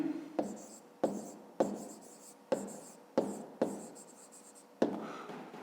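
Pen writing a math answer on paper in a fifth-grade exercise, a series of short scratchy strokes in a regular rhythm, close and fairly quiet, with no talking.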